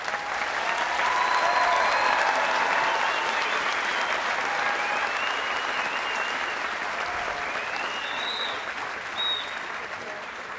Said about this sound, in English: Let us applaud the class of 2014.